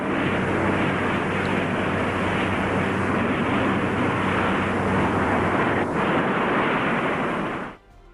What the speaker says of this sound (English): Historic footage captures the modified B-45's ascent on May 20th,